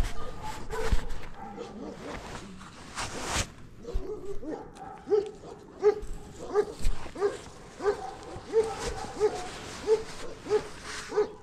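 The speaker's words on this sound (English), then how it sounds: "That's a very pretty dog." A dog moves about close by, giving a steady run of short, evenly spaced whimpers and yips with a few louder barks mixed in.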